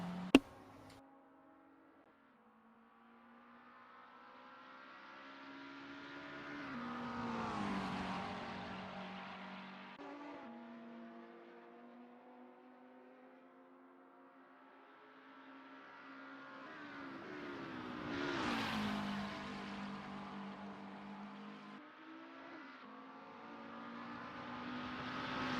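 A Porsche race car in a racing simulator laps Bathurst at full speed, its engine note climbing and dropping through gear changes, swelling loud as it passes close twice, then fading away between passes.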